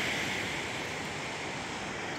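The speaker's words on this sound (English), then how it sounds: "Just looking at the moonshine on the waves." Ocean waves breaking on a beach at night, a steady rushing wash of surf with some wind noise, continuous and fairly close.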